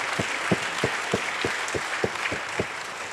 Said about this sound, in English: So I want all of you to please clap for all these teachers who have made a difference.